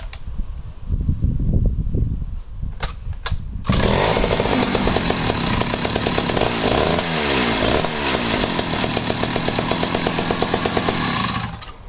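A Partner R12 chainsaw is pulled a couple of times, then fires and restarts, running loud and close with uneven revving and throttle swings for several seconds before cutting off.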